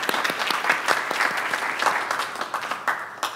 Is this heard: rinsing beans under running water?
no